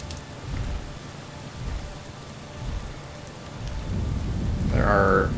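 Steady rain with low rumbling thunder in the Drakan video game, set on the Andrellian Isles; the downpour hiss runs throughout while deep rolls swell and fade, and a brief tonal game sound rises near the end.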